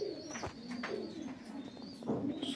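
Green pigeons coo in soft, low, throaty bursts, several calls close together, heard quietly against a light background hiss.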